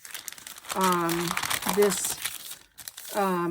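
Paper crinkles and rustles close up while a voice speaks over it.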